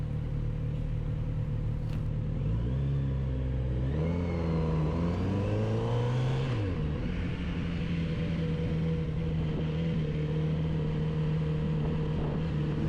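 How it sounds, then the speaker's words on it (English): Kawasaki Z900RS SE motorcycle riding along a dual carriageway, its engine note rising and falling through gear changes as it accelerates, then settling into a steady drone under rushing wind noise. "Dual carriageway riding is smooth and effortless."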